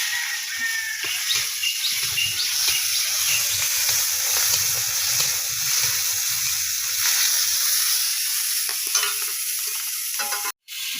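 Prawns hiss and sizzle steadily in hot oil with nigella seeds, a loud continuous frying crackle with occasional stirring scrapes, cutting briefly to silence near the end.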